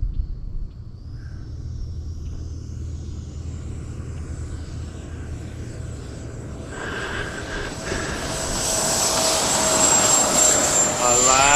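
Banana Hobby RC B1 bomber model plane flying at full speed after its first takeoff from grass, a steady droning engine whine that grows louder and higher as it passes close, with people talking over it.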